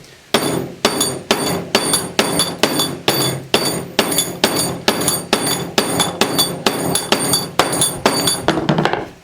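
A hammer strikes material through a tine jig over and over, landing about twenty sharp metallic blows at a steady, brisk rhythm, loud and close with a ringing clink, and no voices.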